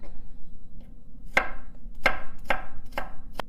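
A knife chopping ginger on a cutting board while making Filipino pancit, five crisp, close chops after a quiet start, spaced roughly half a second apart.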